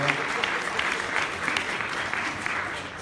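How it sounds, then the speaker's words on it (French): Audience applause at a conference on hip hop and advertising, a steady moderate clapping crowd welcoming a guest and filling the whole short stretch. "Vous pouvez l'applaudir."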